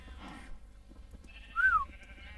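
A single sheep bleat from the Minecraft video game, a short rising-falling cry standing out clearly over quiet background noise, brief and fairly near.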